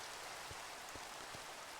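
Steady rain hiss from the Minecraft modpack Chaoskraft 2 falls without a break. A few faint low thumps sit under the even, moderately quiet wash of rainfall, and nobody speaks.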